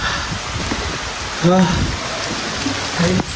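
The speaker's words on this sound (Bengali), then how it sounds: "অতি ভারী বৃষ্টি হবে তার প্রভাব শুরু হয়ে গেছে" Steady hiss of very heavy rain pouring down during Cyclone Remal, with brief voices cutting in twice over the downpour.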